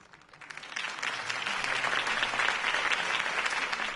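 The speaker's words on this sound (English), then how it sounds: "could have heard that applause" Crowd applause in the video game Batman: The Telltale Series, a campaign rally audience clapping that swells from quiet to a steady, sustained roar of many hands, heard alone without talk.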